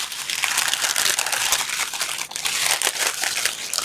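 Plastic bags crinkle and rustle up close in a dense, continuous crackling stream with brief dips, loud and alone without any talking.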